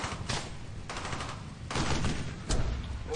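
Gunfire in the WWII shooter game Brothers in Arms: Hell's Highway, bursts of rifle and machine-gun shots with heavy blasts, irregular and fairly loud with no talking.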